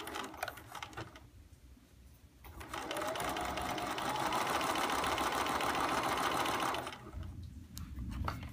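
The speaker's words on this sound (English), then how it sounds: "Okay, I'm going to backstitch." A sewing machine backstitches quilt fabric, running in a steady mechanical whir of rapid stitches for several seconds, with brief pauses and quieter handling at the start and end.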